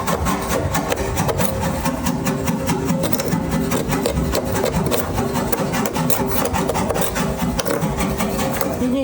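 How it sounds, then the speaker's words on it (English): A hand scraper grinds continuously over body filler on the front end of a Porsche 356 under restoration, making a loud, close, rasping scrape with rapid repeated strokes and no pauses. "it turns out that scraping filler isn't fast"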